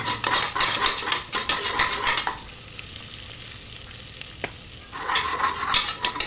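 Onions and fresh green peas fry in a pan with cumin, sizzling loudly while a utensil stirs and scrapes, then quieter for a few seconds before the stirring and sizzle pick up again.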